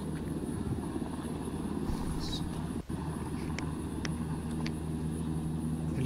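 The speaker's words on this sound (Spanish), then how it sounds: "Se está retirando el helicóptero." A military helicopter's steady distant rumble and drone as it withdraws, during an operation in Culiacán, Mexico, with a few faint clicks and no talking.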